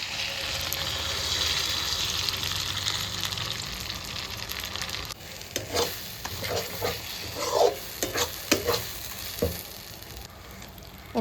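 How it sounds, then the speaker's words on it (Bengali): Ground vegetable peels fry in a wok with nigella seeds, salt and turmeric: a dense, close sizzle at first, then irregular scraping stir strokes against the wok over a quieter hiss. "ভালো করে এগুলো আমি ভেজে নেব"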